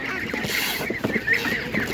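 Laying hens cluck at an outdoor animal market, a few short bursts of clucking over a constant crowd and market hubbub.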